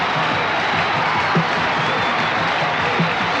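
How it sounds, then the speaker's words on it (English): A crowd applauds and cheers a martial arts demonstration in an ovation. Dense, steady clapping fills the whole stretch without a break, with scattered louder claps poking through. "The crowd, in appreciation for the marvelous show he's put on, is giving him a rousing ovation"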